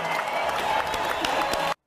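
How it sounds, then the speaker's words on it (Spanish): A short, full burst of applause from a crowd, many hands clapping steadily with a faint cheer mixed in, ending abruptly. "Un aplauso."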